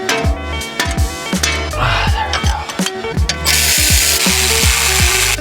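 Rapid ratchet clicks come from a wrench working on an Audi S4 brake rotor, in quick repeated bursts up close, followed by a hiss of penetrating spray.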